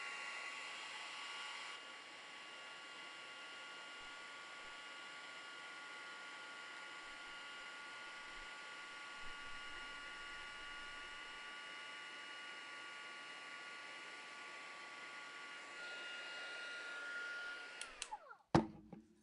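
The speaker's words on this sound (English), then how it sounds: "I'm going to heat it again." A heat tool runs steadily as it melts embossing powder stamped with VersaMark ink, a continuous loud blowing hiss that holds for most of the stretch before switching off with a few clicks near the end.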